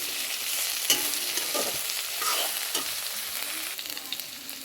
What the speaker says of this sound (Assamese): এতিয়া দিলোঁ মই কেঁচা জ্বালা 4-5টামান দি দিলোঁ।